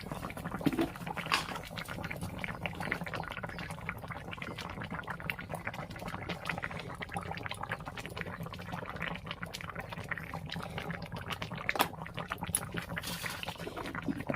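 Cabbage curry bubbling steadily in a pot, a continuous close simmer with soft pops and gurgles and no voices.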